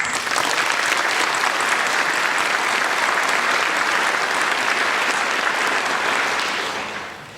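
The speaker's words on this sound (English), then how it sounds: "So thanks to all of you, and a big round of applause." A large commencement audience applauds in a broad, sustained roar of clapping, even and full for about seven seconds before fading out.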